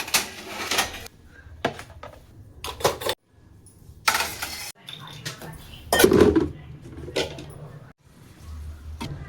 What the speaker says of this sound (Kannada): ಎಲ್ಲ ಪಾತ್ರೆ ತೊಳೆದು ಕ್ಲೀನಾಗಿ ತೆಗೆದಿಟ್ಟು ಎಲ್ಲ ಮಾಡ್ಕೊಡ್ತಾ ಇದ್ದೀನಿ